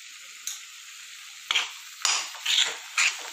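A spoon stirs mutton with ground black pepper in a hot pan, making five short scraping, sizzling bursts over a quiet background, the later ones longer and louder.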